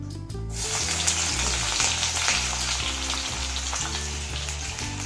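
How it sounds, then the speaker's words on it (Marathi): Ginger and garlic fry in the same oil left from frying okra, a steady close sizzle with crackles over a persistent low tonal hum. "त्याच तेलात आपल्याला आता मसाला टाकायचा आहे त्याच सुरुवातीला आपण टाकणार आहे अद्रक आणि लसूण"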